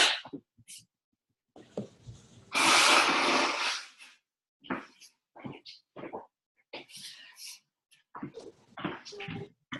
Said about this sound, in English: I need to blow my nose really quick.